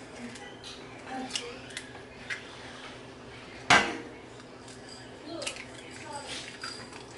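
Two eggs go into a bowl of ricotta for a chicken Alfredo Florentine lasagna, with one sharp crack and clatter against the bowl standing out amid faint kitchen handling noises and quiet clinks.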